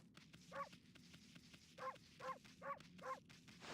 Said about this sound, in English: Got a bark button.